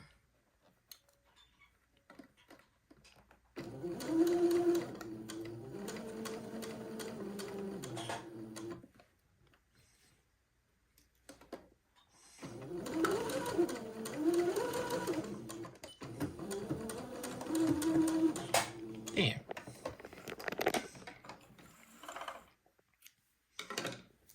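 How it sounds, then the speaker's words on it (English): A sewing machine stitches pleats in two runs of fast, even mechanical whirring, each lasting several seconds, with a brief quiet gap between them. "just simply fold your pleats off to one side and sew as close to the pleats as possible"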